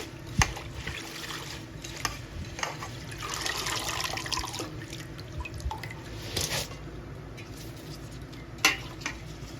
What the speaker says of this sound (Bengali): শাকটা আমি ভালো করে ধুয়ে নেব